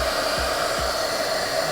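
A heat gun blows a steady, even whoosh of hot air at close range while warming a Mustang badge, with a few faint low thumps beneath the constant airflow.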